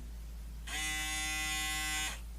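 A Braun Series 5 electric foil shaver switches on and runs with a steady, close, high-pitched motor hum for about a second and a half, then cuts off, with no talking.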